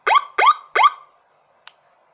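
An electronic siren module with 12 tones sounds one of its tones: three rising electronic whoops in quick succession, fairly loud, followed by a short click.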